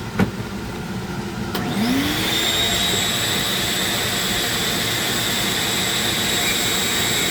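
A suction downdraft table for Dremel carving a wooden friendship staff is switched on after a couple of sharp clicks, spinning up within a second into a loud, steady whooshing roar with a high whine that holds constant.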